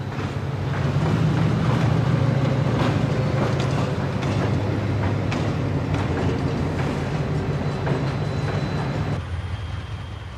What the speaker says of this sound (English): 2 SW9s trundled about the terminal performing miscellaneous switching chores